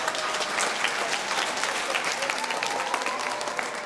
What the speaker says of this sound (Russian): бурными овациями известного гроссмейстера встречают и в актовом зале